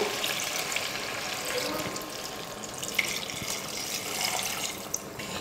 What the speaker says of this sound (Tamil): இப்போது குழம்புக்கு தேவையான அளவுக்கு தண்ணி சேர்த்துக்க போகிறேன்.